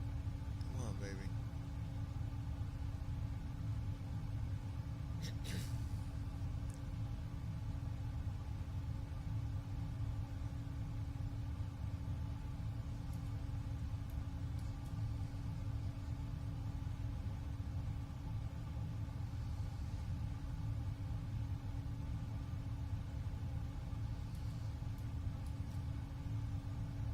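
Boeing 777-200 engine spooling up in Microsoft Flight Simulator 2020, a steady droning rumble with a constant hum that holds loud and unbroken throughout, with a person talking over it.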